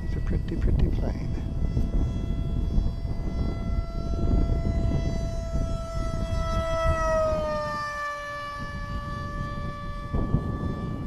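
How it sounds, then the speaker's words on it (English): A Grayson Hobby Supersonic RC model plane with a 30 amp ESC and an 1800 3S battery flies overhead on a breezy evening. Its sustained electric motor whine shifts downward in pitch as it passes, over a low rumble of wind. "I'm flying the Grayson Hobby Supersonic with a 30 amp ESC and an 1800 3S"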